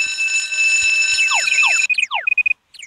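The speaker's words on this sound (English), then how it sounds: "Please be a false alarm." Electronic alarm from the Stickman Survival video game, a steady high tone overlaid with rapid repeating downward-sweeping beeps, loud and continuous, then breaking into short stuttering bursts at the end.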